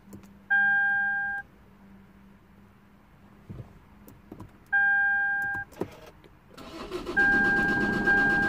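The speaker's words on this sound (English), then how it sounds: "okay, it's cranking." A neglected Lexus IS220d with multiple electrical faults sounds two dashboard warning chimes, then its engine cranks without catching near the end, a rough grinding churn under a continuing tone.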